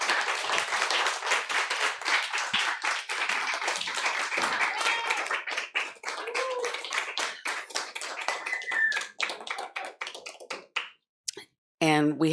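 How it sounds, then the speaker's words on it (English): An audience at a filmmakers' discussion applauds for about ten seconds. The dense, steady clapping from many hands thins out and fades near the end, and a brief voice is heard just after it stops. "Espro Sharp, another round of applause"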